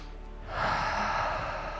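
A long, deep breath drawn during a yoga sphinx pose, a soft airy inhale swelling after a quiet start and holding steady, close and gentle, with no speech.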